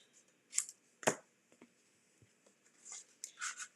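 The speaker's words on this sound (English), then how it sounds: "I am going to have to trim off this corner a little bit" Scissors snip a corner off a sheet of card-making paper, a few short crisp cuts and rustles, close and quiet, with no talking.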